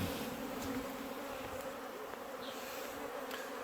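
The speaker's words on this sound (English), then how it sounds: "that's a lot of bees trying to come and go" Honeybees on orientation flights hovering in front of a hive in Newfoundland in August, a dense continuous buzzing drone of many insects, steady and close throughout.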